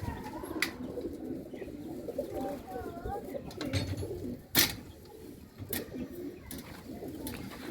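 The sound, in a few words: pigeons cooing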